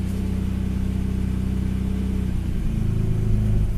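Cold 1970s MG C GT classic British sports car engine idling with a little choke on: a loud, steady low rumble that shifts pitch slightly near the end, with no voices.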